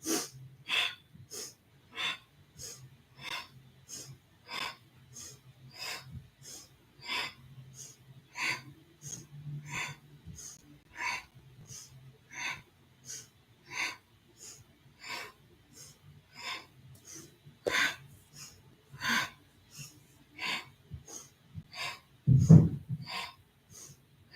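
Rapid rhythmic nasal breathing during a Kundalini yoga flexible-spine session, each sharp inhale and exhale close and forceful, pulsing about once a second without a break.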